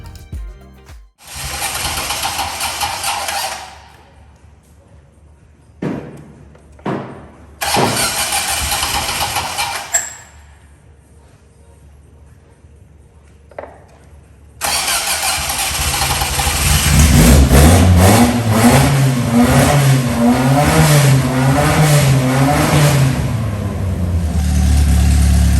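A car's engine has its first start after rebuilding, cranked from a relay at the back of the car. It turns over in several short cranking bursts, then catches and runs loudly, revving up and down for about ten seconds.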